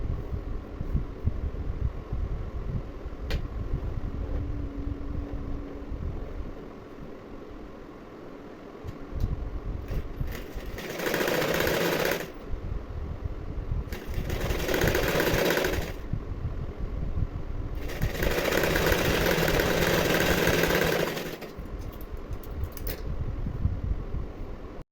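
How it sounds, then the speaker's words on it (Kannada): A sewing machine runs in three separate bursts while stitching a blouse piece to its lining, each run lasting a couple of seconds and separated by brief pauses, with low room hum throughout and no talking. "ಬ್ಲೌಸ್ ಪೀಸ್ ಮತ್ತು ಲೈನಿಂಗ್ನ ಸೇರಿಸಿ ಒಂದು ಸ್ಟಿಚ್ನ ಹಾಕ್ತಿದ್ದೀನಿ"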